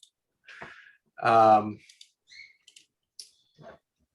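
An old pet bird gives scattered chirps and short whistled calls, separated by pauses, with one louder, longer buzzy call near the middle. The bird sounds close and carries on alone.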